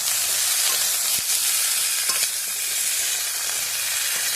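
Vegetables for sukto stirred in a pan, a steady hissing sizzle with scraping of a spoon and a couple of sharp knocks against the pan, no voices.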